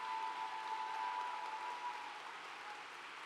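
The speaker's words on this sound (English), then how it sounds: "Y'all are clapping early" A commencement audience at the Mercer Law School 2023 ceremony claps for Juris Doctor candidates: a steady, dense patter of many hands, fairly faint and distant, with a thin sustained tone underneath and no voices.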